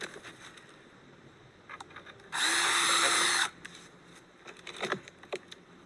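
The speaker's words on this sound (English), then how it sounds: "So when the ground's frozen, drill a hole." A power drill whirs loudly for about a second while drilling into frozen ground, a single steady burst between quieter rustling and handling noises.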